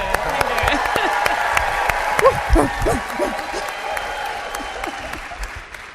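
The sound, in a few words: audience applause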